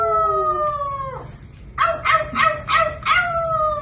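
A parrot imitates a dog's howl, holding long steady pitched wails that bend down, then gives several rising howl-like calls with sharp yips, loud and close with no talking.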